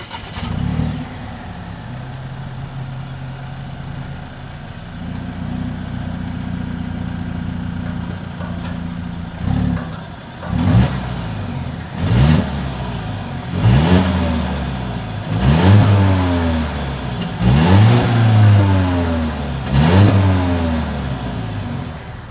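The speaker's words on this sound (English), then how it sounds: "integrated dual exhaust outlets with chrome tips" A 2020 Volvo XC90 SUV's integrated dual exhaust with chrome tips idles with a low, steady rumble, then gets blipped in a series of sharp revs that rise and fall about every two seconds.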